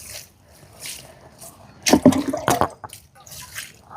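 Water is poured in drips and splashes onto young tomato and spinach seedlings, irregular bursts of trickling and spattering, a louder cluster in the middle, heard close and without talk.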